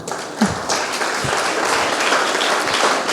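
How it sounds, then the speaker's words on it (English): Audience at an International Epilepsy Day awareness program at a school in Nellore gives a round of clapping. A continuous, fairly loud patter of hands fills the room, with a few sharper claps standing out. "And a good clap for you, all of that."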